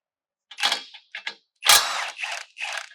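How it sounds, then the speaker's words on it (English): A ratchet fitted with a 14 mm socket works bolts loose while a bumper is installed on a Lexus GX 460, giving several short bursts of rapid clicking, close and fairly loud, with brief pauses between them. "You're using a 14 millimeter socket."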